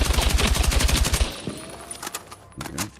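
Rapid automatic fire from the stubby weapon in Battlefield 6 rattles in a loud, fast burst for over a second, then trails into sparse shots and echoing tails during side-to-side strafing.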